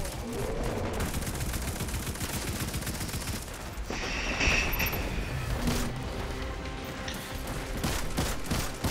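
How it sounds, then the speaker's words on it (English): Rapid, sustained gunfire while shooting at an enemy in Destiny 2 during a Nightfall mission, dense automatic bursts running continuously and loudly throughout, with faint game effects mixed in. "I've been shooting this fucker for fucking 3 minutes now."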